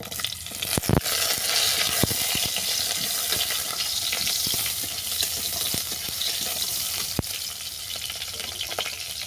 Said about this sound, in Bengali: এরপর দিয়ে দিচ্ছি কেটে রাখা সাপলা